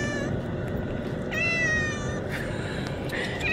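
A cat cries out in drawn-out, wavering meows over a steady low rumble, several calls in quick succession.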